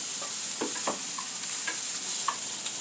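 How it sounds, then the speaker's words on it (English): Egg-dipped slices of Pepperidge Farm butter loaf bread frying for cinnamon French toast, a steady soft sizzle in the pan with a few light taps and clinks of a utensil. "I'm going to add it right to my pan"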